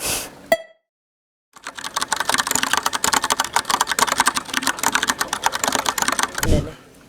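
Fingers type steadily on an Apple Magic Keyboard, second generation with Touch ID, producing a fast, dense patter of light key clicks up close after a brief thud and a moment of silence, ending abruptly.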